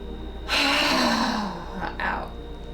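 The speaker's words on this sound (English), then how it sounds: "Inhale." A deep inhale during a heart-opening breathing exercise, a loud broad breathy rush lasting about a second, followed by a shorter second breath, close and alone with no talk.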